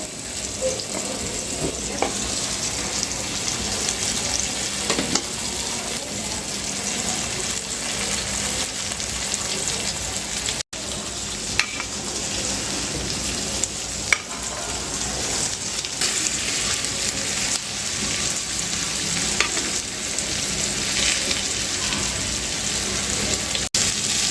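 Rava-coated halwa fish pieces fry in a pan with a continuous, even sizzling hiss that lasts throughout, with a few faint clinks and one brief dropout.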